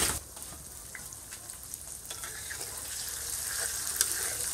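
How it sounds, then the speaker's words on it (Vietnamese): Tofu fries in a generous amount of oil for a vegetarian noodle soup, giving a steady close sizzle and crackle with small pops, no voices over it. "đậu hũ mình chiên cho nó vàng vàng thì nó sẽ giòn hơi nhiều dầu một chút nha"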